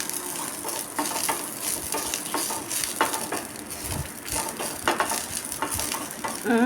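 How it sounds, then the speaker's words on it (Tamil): Drumstick leaves sautéing in a little oil, a continuous close sizzle with regular scraping and stirring strokes of a spatula against the pan throughout. "கொஞ்சமாக எண்ணெய் ஊற்றி நல்லா வதக்கிக்கணும்"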